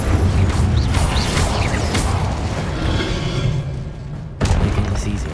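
An Incendio fire spell is cast in Hogwarts Legacy, producing a loud whooshing, rumbling burst with low thuds and crackling texture that swells, dips near the end, then surges again, with a voice heard briefly.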